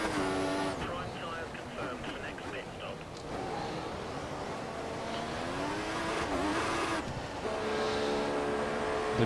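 An F1 race car in the F1 2014 game on the Valencia street circuit slows into the pit lane, its engine whining and shifting pitch steadily beneath continuous spoken commentary.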